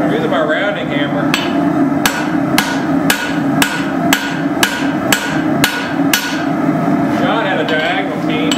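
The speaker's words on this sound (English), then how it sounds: "I'm using my rounding hammer." A blacksmith strikes a rounding hammer on hot steel while forging a hatchet, a steady series of about a dozen sharp, ringing blows spaced roughly half a second apart, close and loud, with no talking.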